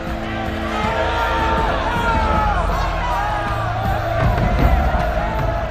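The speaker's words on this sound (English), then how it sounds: "But amid the applause, there were also cries of protest." A large ancient Roman crowd roars with cheering, whoops and shouts, a dense, sustained wall of voices that swells louder near the end.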